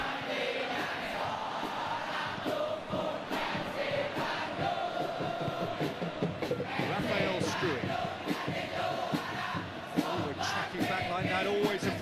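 A stadium crowd in the eFootball PES 2021 video game roars and cheers steadily in a dense, continuous wash, with a commentator's voice running over it.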